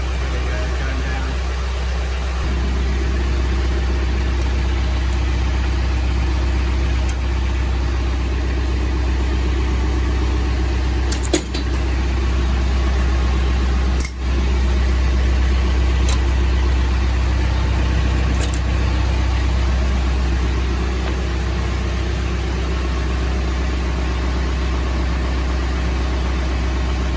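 A John Deere 4066R tractor engine runs at a constant, loud, low drone close by, with a few brief clicks and someone talking over it.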